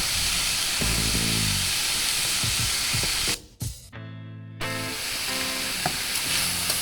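Apples and sausage cooking in a pan, a loud steady sizzle and hiss with a brief break, then frying resumes close and continuous.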